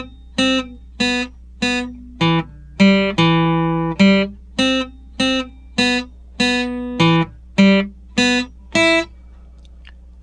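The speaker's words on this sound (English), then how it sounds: "For the chorus, the melody will sound like this." A single acoustic guitar plays a song's chorus melody, a steady run of about fifteen cleanly plucked notes in an even rhythm, each struck sharply and ringing briefly, close and alone with no voice.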